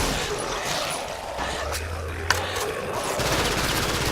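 M4 rifle fire in the video game Killing Floor crackles as dense, continuous shooting amid game noise and combat clamor, loud and sustained through the short stretch.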